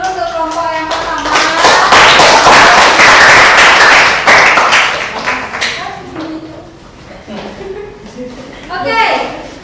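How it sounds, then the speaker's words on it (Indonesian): Students in a classroom clap for the first presenting group, a loud, dense burst of hand claps that thins out and fades, with voices talking over it. "silakan kita beri tepuk tangan dulu untuk kelompok yang pertama"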